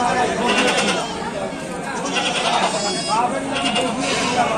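A black goat bleats several times at a busy Bangladeshi village haat, its cries rising over steady crowd chatter and nearby voices throughout.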